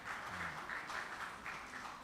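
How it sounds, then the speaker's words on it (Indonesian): Audience applause for a committee chairman at a church New Year thanksgiving gathering (Bona Taon) of a Batak congregation, a steady crowd of clapping sustained throughout at moderate distance. "Tepuk tangan dulu untuk Bapak ini."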